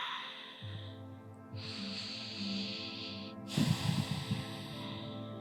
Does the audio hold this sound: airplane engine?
no